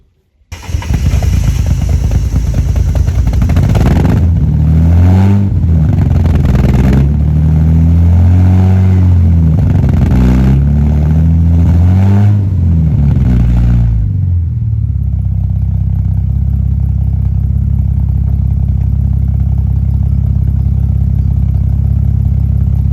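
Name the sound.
Mercedes car engine starting and running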